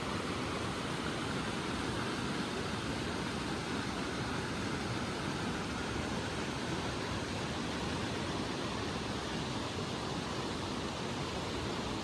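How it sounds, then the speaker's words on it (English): A creek running through a car campsite gives a steady, even rushing wash of water, constant and fairly soft, with no voices or other sounds breaking through. "I am just gonna enjoy hearing the river or like the creek that's running through here"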